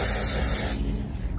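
A can of adhesive spray is sprayed onto the back of a wig cap, a loud close hiss lasting under a second before cutting off, leaving a soft background.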